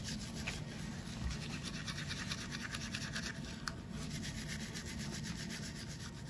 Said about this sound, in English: So he's going to brush his teeth now.